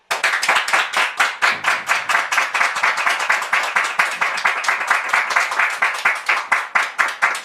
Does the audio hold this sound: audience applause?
yes